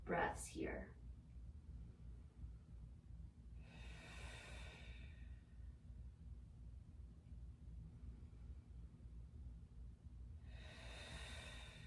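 Slow yoga breathing, three long soft exhalations spaced several seconds apart, close and breathy against a quiet room, with a brief vocal sound at the start.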